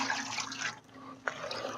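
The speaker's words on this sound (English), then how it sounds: "Just take a little bit of water and we'll wash down our sluice here." Water rinses down a gold mining sluice lined with miner's moss, a close, steady splashing rush that briefly dips before a sharp splash and resumes, with no talking.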